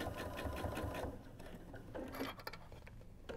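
Sewing machine stitching quilt-as-you-go hexagon patches, a steady close mechanical whir for about two seconds that then stops, leaving a few soft handling clicks.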